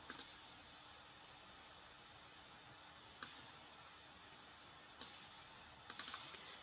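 A few sparse clicks from a computer mouse and keyboard, a quick pair at the start, single taps in the middle, then a short cluster near the end, faint and close over a quiet hiss, with no talking.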